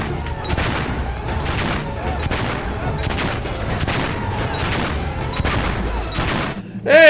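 Explosions and gunfire from the World War I video game Valiant Hearts: a continuous, dense barrage of booms and shots keeps rolling for several seconds, loud and close, before a brief sharper burst near the end.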